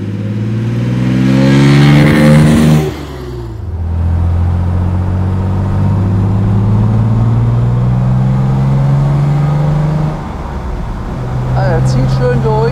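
A 1968 Maserati Mistral 4000 accelerates hard, its engine climbing in pitch, dropping briefly at a gear change, then pulling strongly again. A second shift comes near the end, all heard from inside the car.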